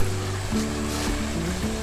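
Water flows steadily and continuously at the junction of two streams in an abandoned section of the Erie Canal lined with dark walls, a close, even rushing wash with faint tonal hum beneath.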